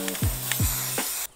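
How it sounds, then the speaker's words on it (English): A steady hiss of an aerosol spray can, broken by a few soft knocks, ending abruptly. "I decided I would spray paint the logo to make it look like a BMW."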